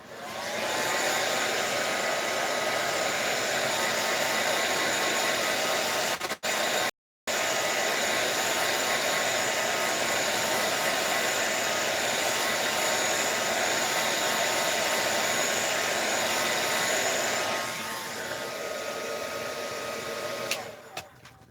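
A hair dryer blowing on painted mixed-media work in a Dollar Tree coloring book, a loud steady close whoosh running continuously, briefly cut off once, then easing down near the end.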